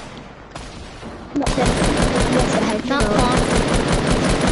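Rapid gunfire in the video game Fortnite during a sniper exchange, dense loud shooting after a quieter start, with a player speaking briefly over it.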